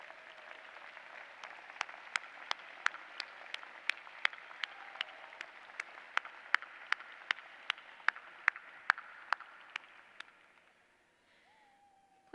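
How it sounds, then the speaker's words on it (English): Graduates and guests at a law school graduation ceremony applaud in a large hall, a steady wash of clapping with some sharp, regular claps standing out, then it fades away. "provide a round of applause as a thank you to your family, friends, and other loved ones who have joined us today"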